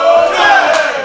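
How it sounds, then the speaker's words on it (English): A wrestling show crowd shouts in unison, counting along with heavy chops in the corner, a loud, dense wall of voices filling the arena throughout. "The crowd feels like counting tonight, raining down these heavy hands in the corner."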